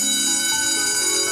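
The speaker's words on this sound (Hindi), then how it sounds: "स्कूल जा, घंटी बज गई है।" A school bell rings loudly and continuously, a bright sustained metallic tone with dense shimmering overtones, heard alone with no voices.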